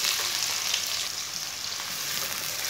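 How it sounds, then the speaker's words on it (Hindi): Finely chopped onion fries in half a cup of hot oil with whole coriander and cumin seeds. The sizzle is loud, steady and close, hissing continuously with no talk over it. "प्याज को ब्राउन कर लेंगे"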